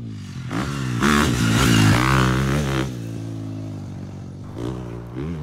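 A motorcycle engine revs up loud and close, rising and falling in pitch with a rough harmonic drone, then settling to a steady growl.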